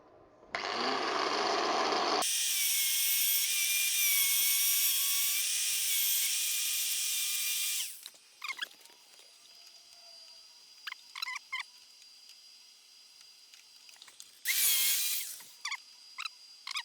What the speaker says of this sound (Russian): Сейчас вырезаем болгаркой из этого шаблона деталь и привариваем.